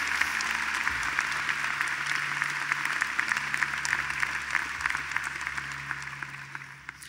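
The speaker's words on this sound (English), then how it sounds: "Today, let's celebrate this spirit with a robust round of applause." A university commencement audience at UVM claps in a sustained, fairly loud round of applause that gradually fades toward the end, with a faint steady hum underneath.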